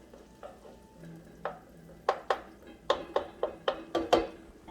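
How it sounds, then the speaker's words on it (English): Diced onion and pancetta cooking in a pan, a series of sharp, close scraping and stirring strokes in a loose rhythm over a faint sizzle, growing busier toward the end. "Diced onion, pancetta, get this cooked up."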